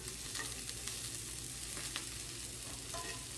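Sausage and rapini turned in a hot frying pan crackle and sizzle quietly, with scattered scrapes and clinks from the turning, close by and with no talk.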